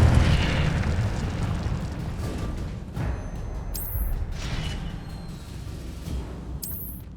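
Incendio fire spell from Hogwarts Legacy, a loud roaring burst of flame that opens the clip and slowly fades, followed by two short bright magical flourishes.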